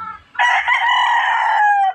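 A kept backyard rooster gives a single loud, close crow, a long drawn-out call that ends in a falling tail, with quiet before it.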